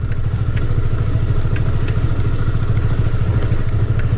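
A light motorcycle climbing a slippery uphill track gives a loud, steady, throbbing engine drone with a fast low pulse and occasional clattering knocks, close and continuous with no talk.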